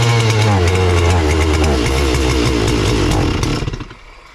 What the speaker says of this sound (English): Let's see how it fires up.